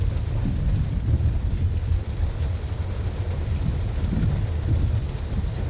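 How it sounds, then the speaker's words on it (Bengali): Heavy rain pours over a moving car, a dense, continuous low roar and rumble with no breaks, loud and close throughout. "দেখতে পাচ্ছেন জুম বৃষ্টি হচ্ছে, বৃষ্টির মাঝে গাড়ি চালানো কতটা আনন্দদায়ক"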